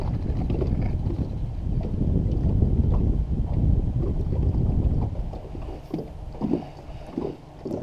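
Strong, steady wind buffets a boat on DeGray Lake, a loud, continuous roar with low gusting rumbles and faint water sloshing, easing slightly toward the end.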